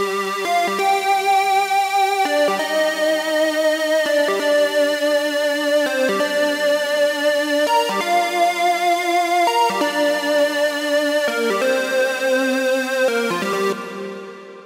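A bright trance synthesizer lead plays a repeating melodic sequence of sustained notes in a steady rhythm, alone and fairly loud, fading out at the end.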